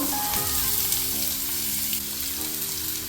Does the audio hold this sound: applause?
no